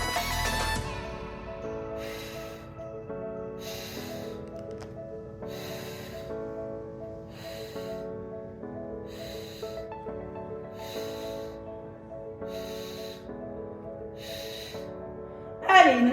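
Heavy rhythmic breathing during squats in a workout: about eight forceful exhales, one every second or two, each a short breathy burst over steady background music.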